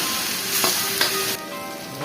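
Aromatics and tomatoes sizzle in hot oil in a pan for goat kaldereta. The frying is loud and steady close by, with a couple of soft stirring scrapes partway through.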